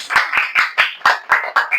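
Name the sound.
audience clapping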